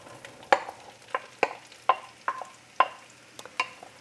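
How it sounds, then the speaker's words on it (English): Onions fry in hot oil for goulash, with a soft sizzle under a series of sharp, close clinks and scrapes as they are stirred, roughly one every half second. "And I will let these fry here now for 9 minutes"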